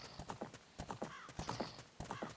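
Horse hooves clip-clopping in an irregular trot, with a brief whinny partway through, from the video game Fallout New Vegas; the sounds are fairly quiet and clear, with no talking.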